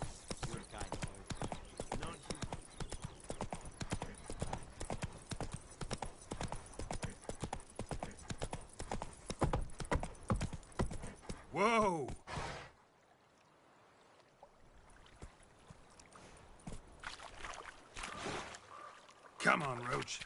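Horse hooves clip-clopping at a rapid galloping rhythm in the video game The Witcher 3: Wild Hunt, steady for about twelve seconds before stopping abruptly, followed by quieter ambience and a few faint sounds.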